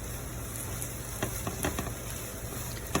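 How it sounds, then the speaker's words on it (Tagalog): Beaten eggs sizzling in a pan with sautéed bitter melon (ginisang ampalaya), a steady close crackle with scattered sharper pops and light stirring clicks. "it is now time for you to add your 2 beaten eggs or binating itlog"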